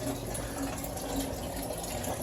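Water from an aquaponics pump flows up a narrow pipe and pours back into the tank, making a continuous, close gushing rush with no pauses.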